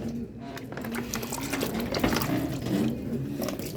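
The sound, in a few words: pouring water into containers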